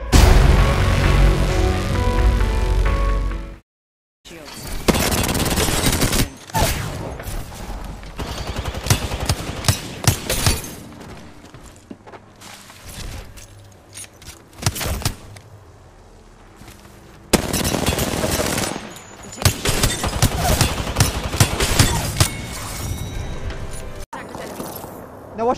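Sustained automatic gunfire with heavy recoil in the Apex Legends battle royale game, loud rattling bursts broken by short gaps, with game effects and talk mixed in.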